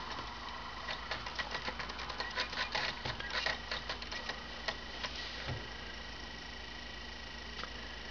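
Keys clatter on the keyboard of a clamshell iBook in quick, uneven bursts of soft clicks, fairly quiet and close, thinning out after a few seconds into near silence with one last tap.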